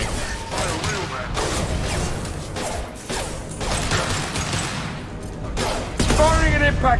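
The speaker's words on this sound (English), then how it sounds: "Firing an impact shot." An impact shot weapon fires in Mass Effect 2, a series of loud, punchy blasts and mechanical clanks over a dense bed of combat noise, ending with a heavier, louder burst.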